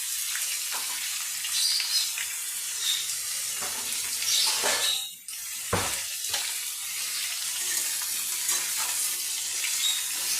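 Pumpkin slices coated with egg, salt and turmeric frying in a pan over a medium flame, giving a steady sizzle with scraping stirs and a short dip in the middle, no voices.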